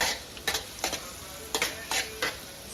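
Onions and garlic stirred in cream in a pan, with a soft continuous sizzle and several short scraping strokes of the spoon coming in bursts at an uneven rhythm, close by and fairly quiet.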